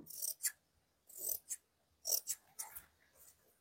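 Scissors snip through excess blouse fabric in quick crisp bursts, about eight short close cuts in uneven clusters with brief pauses between them and no voices.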